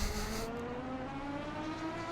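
V12 race car engine in a racing video game at Kyalami, heard from a third-person view as a steady, moderately faint drone with tones slowly rising in pitch as it accelerates.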